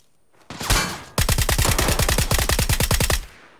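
A short burst of gunfire, then a long, fast, evenly spaced stream of loud automatic shots in the battle royale game PUBG, every round missing its target, with no talk over it.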